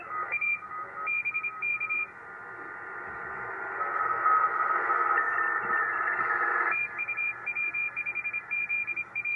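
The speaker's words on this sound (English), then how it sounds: "Wow, that's a ton of Morse code." Fast Morse code pours from an amateur radio receiver, rapid beeping tones keyed in quick bursts with several overlapping signals over a band of static hiss.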